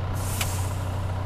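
A truck handbrake lets out one short, sharp air-release hiss in the Heavy Duty Challenge truck driving video game on PS5. It sits over a steady, loud low engine idle drone that carries on throughout.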